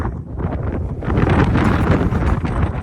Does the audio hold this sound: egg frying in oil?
no